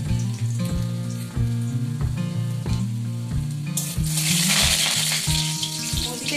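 Chopped garlic fries in hot oil as greens are being cooked. Under background music, a quiet sizzle suddenly swells into a loud, hissing crackle for the last few seconds.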